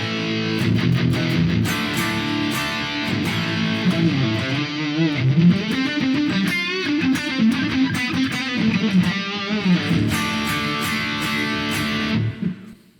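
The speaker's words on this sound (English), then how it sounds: "it's the Mesa Boogie dual rectifier, and it sounds" Electric guitar played through a Mesa Boogie Dual Rectifier amp model on a Quad Cortex, heavily distorted with chugging palm-muted riffs and sustained chords, loud and continuous for about twelve seconds before cutting off.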